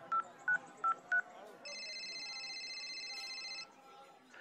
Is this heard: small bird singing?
no